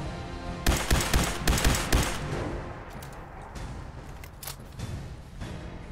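Gunshots in Fallout 4, a rapid cluster of loud close shots followed by sparser, quieter cracks and reports trailing off.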